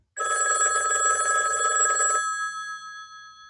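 A telephone bell rings once in a single sustained, loud metallic burst of about two seconds, then fades away, with no one speaking over it.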